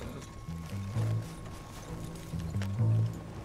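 A horse's hooves clip-clop in rhythmic pairs in Red Dead Redemption 2, moderately loud and steady over a faint background hum.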